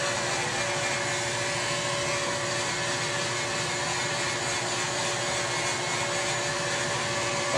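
A Milwaukee 1,000-degree dual-speed heat gun runs continuously while warming window film, a steady, even blowing whir with a faint constant hum that holds unchanged throughout.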